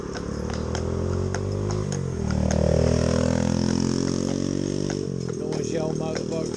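An old motorbike passes nearby with a steady mid-pitched engine drone, swelling loudest around the middle as it goes by, then easing off, with a low rumbling backdrop throughout.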